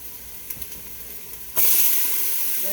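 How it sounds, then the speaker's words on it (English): Vegetables sautéing in a hot pan for a home-cooked Sunday dinner; the sizzle starts abruptly partway through, then holds as a loud, steady hiss with no talking. "I'm just going to saute that around"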